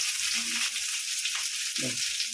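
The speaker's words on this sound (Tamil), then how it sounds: "கடுகு போட்டேன், வெங்காயம்" Onion going into hot oil with mustard seeds, a steady bright sizzle throughout with a couple of brief soft clatters from the pan or spoon, close and alone without talk.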